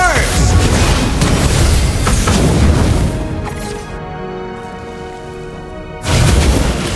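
Valir's Lava Burst fire skill in Mobile Legends erupts as a loud, dense blast of rumbling, crackling energy, then drops away before a second burst near the end; game voice lines sound around it.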